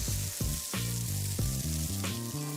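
A brown sauce thickened with cornstarch is poured around a hot pan of beef and broccoli and sizzles loudly, with sharp crackling bursts as it hits the metal.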